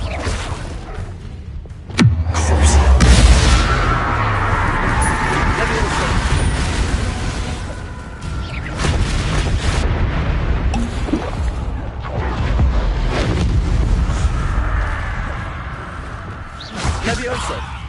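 Spell blasts cast in the Hogwarts Legacy video game: several sudden booming bursts, the loudest near the start, breaking over a continuous layer of game ambience and voices.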